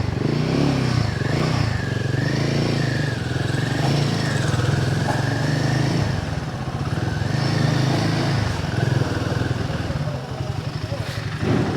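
A Royal Enfield Himalayan 450 motorcycle rides slowly into a temple grounds, its engine thrumming steadily and close with slight revving, while voices talk over it throughout.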